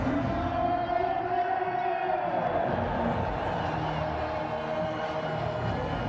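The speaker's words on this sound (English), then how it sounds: "Celebration in the crowd for the Zalmi supporters" Peshawar Zalmi supporters celebrate in a packed cricket stadium. A loud, sustained roar of cheering and shouting rolls on steadily throughout.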